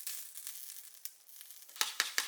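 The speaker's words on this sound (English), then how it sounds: "Cut the sausage in half, cook in a frying pan." Sausage halves sizzle in a frying pan with a soft, steady crackle, a few sharper pops or utensil taps standing out near the end; fairly quiet and close, with no talking.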